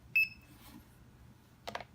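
An Acaia Pearl Black coffee scale gives one short, clear electronic beep as it is tared, followed by a faint rustle and a brief knock.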